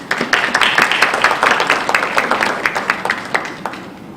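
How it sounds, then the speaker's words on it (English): Audience applause after a talk: dense, steady clapping from many hands that fills the space, holding strong before thinning out toward the end, with no voices over it. "All of you deserve a round of applause"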